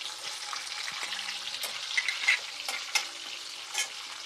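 Oil sizzles steadily in a pan while onions fry for vegetable biryani, with soft stirring scrapes and light taps of a spoon.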